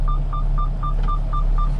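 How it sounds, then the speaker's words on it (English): Seatbelt warning chime in a Pepsi delivery truck cab, a regular train of short high beeps about four per second over a low engine drone, clear and close, no talking. "It beeps when you don't have your seatbelt on."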